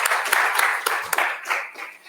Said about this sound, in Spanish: un aplauso por su excelente presentación